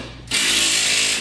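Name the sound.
torque wrench ratcheting on car suspension bolts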